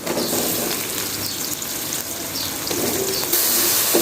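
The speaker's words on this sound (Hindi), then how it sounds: "तो अभी टमाटर मैंने डाले हैं तो इसको मैं अच्छे तरीके से भून लेती हूँ।" Tomatoes with salt, chili and crushed coriander fry in a pan while matar pulao is being made. A continuous, close sizzle runs steadily throughout.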